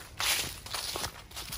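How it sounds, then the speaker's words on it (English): Footsteps crunch through dry leaves on a hiking trail, several close, crisp steps in quick succession with no talking. "Leaves crunching."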